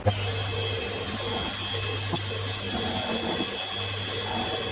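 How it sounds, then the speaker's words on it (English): A steady machine whine with a low motor hum and faint cutting noise as a milling machine cuts a flat on a shaft for a homemade tool and cutter grinder, running continuously at close range without speech. "we'll mill a bit of a flat on here"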